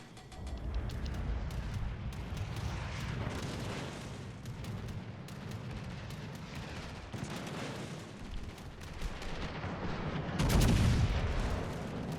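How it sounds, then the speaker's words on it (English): A World of Warships Legends destroyer shooting from long range: a continuous rumbling battle bed with scattered cracks of naval gunfire and a heavier boom near the end, moderately loud throughout. "little fucking destroyer shooting at me"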